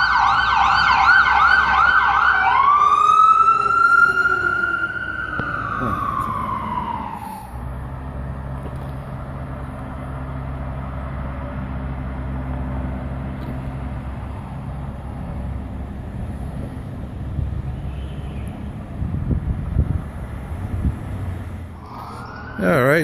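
An ambulance siren wails loudly up close, then drops in pitch as it passes and fades away, leaving rumbling traffic and engine noise behind.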